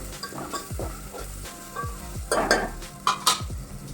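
A salted vegetable mixture fries in hot oil in a pan while a spoon stirs it, giving soft sizzling under repeated scraping strokes and a few sharper clinks of utensil on metal, close and without talk.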